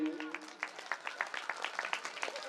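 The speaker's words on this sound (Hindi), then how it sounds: "चलिए जोरदार तालियां बजाइए अपने लिए।" An audience at a Shrimad Bhagavat Katha religious gathering claps energetically, with a dense patter of hand claps that carries on throughout at a fairly soft, distant level.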